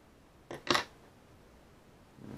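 Scissors snip trimming excess material at the hook while tying a Klinkhammer trout dry fly with an olive CDC body, two quick close metallic clicks, then a faint rustle.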